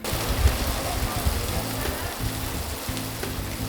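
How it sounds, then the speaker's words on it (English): Steady rain falls outside in Glasgow, a continuous broadband hiss with low rumbling underneath, moderately loud and unbroken, with faint traffic or voices mixed in. "As the rain came down outside"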